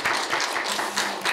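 A church congregation at a Korean Presbyterian Sunday service claps to welcome a returning member, a close, fairly loud burst of uneven clapping without voices.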